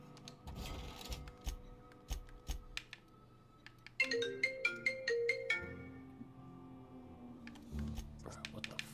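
A phone call ringtone from the video game The Outer Worlds, a repeating series of bright electronic tones pulsing steadily mid-clip over game music and background sounds.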